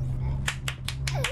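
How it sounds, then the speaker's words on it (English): Creepy rhythmic clapping in a horror video game, a series of about five sharp, evenly spaced claps heard over a low steady hum, with a voice partly overlapping near the end. "The clapping is so creepy."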